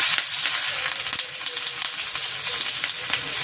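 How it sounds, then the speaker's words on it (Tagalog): Seasoned fish sears in oil on a grill pan, a loud, continuous close-up sizzle with crackling pops that rises and dips slightly but never stops, with no voices over it. "isasalang ko na itong isda"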